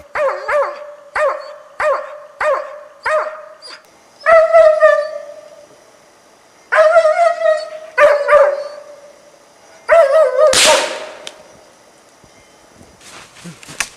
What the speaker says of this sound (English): The dog barks at the animal without losing sight of it for a minute, until the hunter arrives